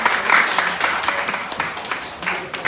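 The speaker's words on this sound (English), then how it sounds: "Let's give a round of applause again for Olive" An audience at a networking event claps in a round of applause, a dense burst of hand clapping that swells and fades, heard close with some crowd noise mixed in.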